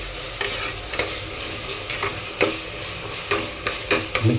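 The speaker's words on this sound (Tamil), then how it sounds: "இஞ்சி பூண்டு பச்சை வாசனை போகிற அளவுக்கு நல்லா மிக்ஸ் பண்ணிக்கோங்க." Ginger garlic paste being stirred and fried in a pan, with a steady sizzle under repeated scraping strokes of a spoon against the pan.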